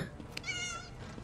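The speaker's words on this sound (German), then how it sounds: "Hier sitzt eine Katze." A cat meows in a tavern in The Elder Scrolls video game: a single drawn-out, rising and falling cry, close and clear over a soft background hum.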